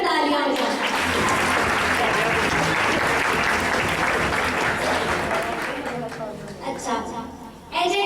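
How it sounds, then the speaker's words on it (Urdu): An audience at a certificate ceremony for women's livestock-farming training gives a full round of applause, dense and steady for several seconds before tapering off, with a few voices rising as it fades. "تیرا واسطے بھرپور تالیاں ہو جائیں."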